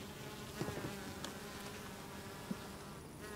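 A soft, continuous hum of honey bees buzzing at rooftop hives in Berlin fills the air, faint and steady, with a few brief louder passes nearby.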